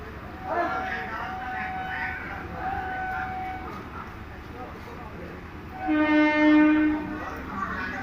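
A local train rumbles along steadily on the Howrah–Panskura line, and its horn sounds in two long blasts, the second louder and closer.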